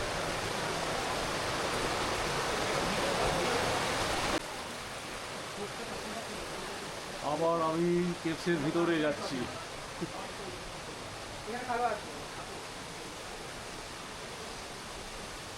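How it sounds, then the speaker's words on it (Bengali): Water streams down like rain from a cave ceiling in Meghalaya, a dense steady hiss that drops sharply in level partway through, with someone speaking briefly over it. "পুরো মাথার উপর থেকে বৃষ্টি পড়ছে।"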